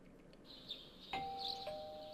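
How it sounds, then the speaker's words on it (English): A two-tone ding-dong doorbell chime in Persona 4 Golden rings once, clear and fairly close, over a faint ambient hum with no talk. "You hear the doorbell ringing."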